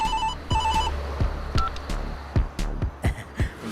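A wireless phone rings with two clear electronic bursts, then a series of dull, close thumps and knocks follows in an uneven rhythm.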